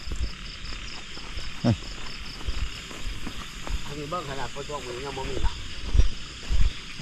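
Frogs croak in a wet outdoor spot after rain, a brief run of rhythmic pulsing calls mid-clip over steady insect-like hiss, with scattered thumps and handling noises around it.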